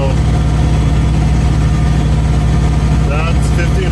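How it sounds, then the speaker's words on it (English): A truck engine runs steadily at about 1500 RPM while creeping in high reverse at walking pace, a loud, constant low rumble throughout with a brief higher whine near the end. "That's 1500 RPM, we're doing 5 kilometers an hour in high reverse."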